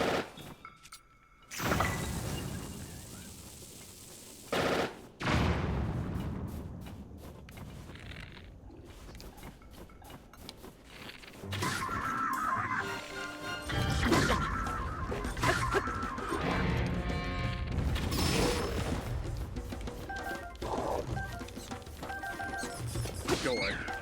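Bombs exploding in Zelda: Tears of the Kingdom, sharp blasts followed by rumbling, crackling combat noise, with a voice talking at times between the explosions.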